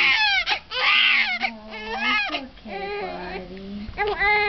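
A newborn baby boy cries in loud, wavering wails broken by short gasping pauses, close by and alone for several seconds.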